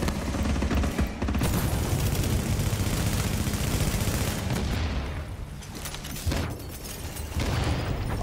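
Sustained gunfire from a Tom Clancy's The Division firefight, dense overlapping bursts of rifle and automatic fire rolling on loudly for several seconds with booming hits mixed in and little pause.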